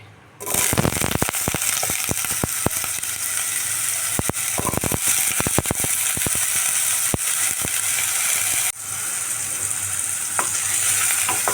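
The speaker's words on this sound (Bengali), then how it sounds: "এবারে নুন হলুদ দিয়ে আমি আলুগুলা কড়াইতে ফ্রাই করে নিচ্ছি" Steady, loud sizzling of potatoes frying with salt and turmeric in hot oil in a wok, with frequent scraping clicks of a spatula stirring the pan throughout.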